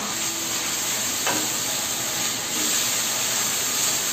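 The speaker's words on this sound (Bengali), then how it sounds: "এই যে বাকিটা ধুয়ে রেখেছিলাম এই জলটা এবার এখন দিয়ে দিলাম।" Water has just been poured into masala frying for katla fish kalia. It gives a steady, broad, close sizzling hiss that holds evenly throughout, with no talking.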